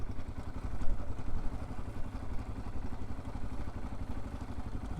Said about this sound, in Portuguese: Nunca imaginei que eu ia estar andando de moto aqui.